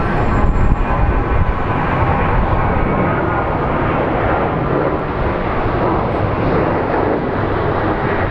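A Southwest airliner in a special livery at Phoenix Sky Harbor airport, a loud sustained roar of jet engines with broad rushing noise that holds steady throughout, close and without talk.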